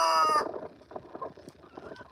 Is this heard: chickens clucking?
yes